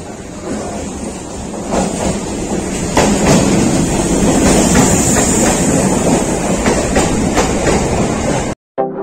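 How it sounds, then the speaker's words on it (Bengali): Train pulling into a station platform on a Kolkata to Bakkhali trip, a loud, steady rumble with rattling wagons and faint clickety-clack building up over several seconds, then cutting out abruptly near the end. "চলো আমাদের ট্রেন ঢুকে গেছে"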